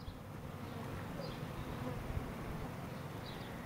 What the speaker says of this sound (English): we actually keep the bees right here against the back of the house